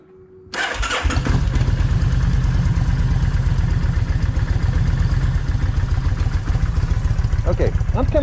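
A Vulcan 1600 motorcycle with wet spark plugs cranks briefly, then catches and runs loud and close with a rapid, slightly uneven throb that holds steady to the end.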